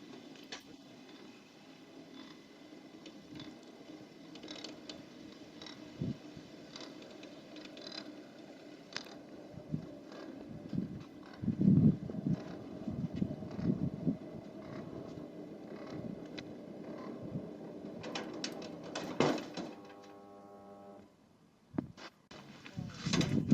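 A motorized bi-fold accordion gate on hinged leaves swings halfway open with a steady mechanical whir, scattered knocks and clunks and a final louder thud, and faint voices can be heard in the background.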